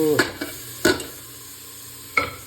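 Ingredients frying in a pan before dal goes in, with a constant hiss under three sharp spatula knocks spaced unevenly, nearby and without voices.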